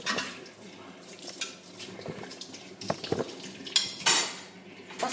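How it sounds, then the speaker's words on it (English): Dry ingredients for a carrot cake are stirred in a bowl, with a utensil scraping and clinking against the sides in an uneven rhythm, close and alone. "So whilst I have my dry ingredients, I'm just gonna mix the thing."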